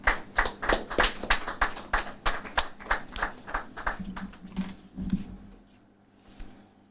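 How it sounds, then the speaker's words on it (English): Journalists at a Ghana Journalists Association gathering clap for their president, a brisk burst of close, sharp handclaps that thins out and fades over several seconds, with a few murmured voices near the end. "Please clap for our president."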